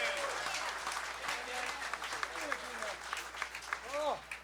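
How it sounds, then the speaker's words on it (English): An audience claps for the drummer of a big band at a Christmas party, a steady broadband patter with a few voices and brief whoops rising through it, fairly loud throughout. "How about a round of applause for Dan Hall on the drums?"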